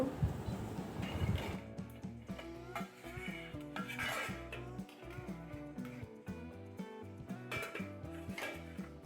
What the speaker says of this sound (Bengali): এবার আমি কচুটা তুলে নেব তুলে ভালোভাবে আবারও ধুয়ে নেব